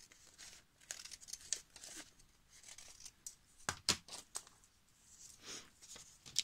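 Old book pages are trimmed and handled quietly up close: soft scissor snips, paper crinkles and rustles come in scattered bursts with short pauses between them.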